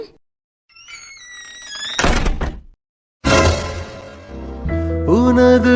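A door in a cartoon house is banged, giving two loud thuds with a rattling, squealing edge, followed by a synthetic musical tone, with no voices.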